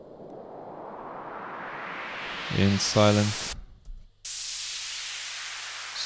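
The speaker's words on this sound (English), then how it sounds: "Noise rise I've created" White noise riser built as a sound effect for an electronic music track, a broad hiss that swells steadily in loudness, broken by a short spoken interjection and a brief cutout before the noise resumes at full level.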